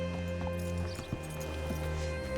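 Horse hooves in Red Dead Redemption 2 clip-clop in a short, uneven walking rhythm, a few distinct thuds over a steady low game-ambience hum.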